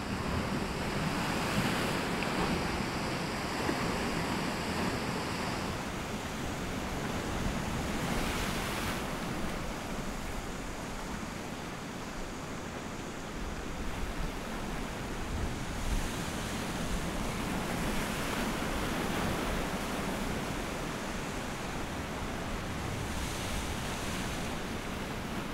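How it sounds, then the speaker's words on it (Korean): Ocean waves washing on the Jeju coast, a continuous close surf wash with gusting wind buffeting the microphone, no voices. "제주하면 바다를 빼놓을 수 없겠죠."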